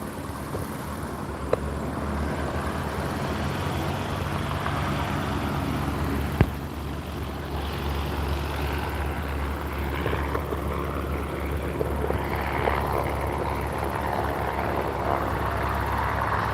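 A small light aircraft engine idles and taxis at Barton Aerodrome in Manchester. It gives a steady, continuous drone at moderate distance with no talking.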